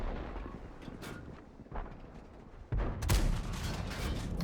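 A tank cannon fires in a tank combat video game, a sudden loud booming blast partway through followed by a rumbling tail, after a stretch of quieter distant battle noise.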